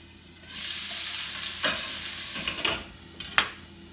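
Chopped onion being stirred in a pan with a splash of Sprite, a steady sizzle broken by a few sharper scraping strokes, close and clear with no talking.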